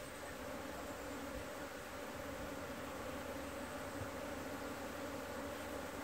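Agitated honey bees swarm around a hive frame, their buzzing a steady, dense drone close by that holds without a break and with no voices.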